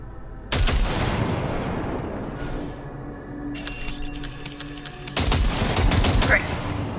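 Sustained automatic gunfire from a long calibration round in Cyberpunk 2077 rattles in dense, loud bursts, stopping briefly and resuming twice, with sparse background game sounds in the gaps.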